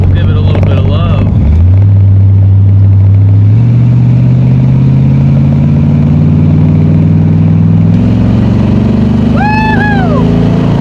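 C4 Corvette engine revving hard during a drift, a loud close steady drone that climbs in pitch and holds high, with a brief squeal near the end.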